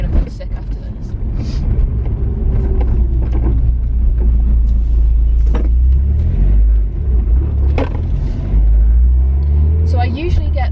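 Modified Nissan S15 heard from inside on the road, a constant loud engine rumble with shifting drone and some rattles and bumps, someone talking over it throughout.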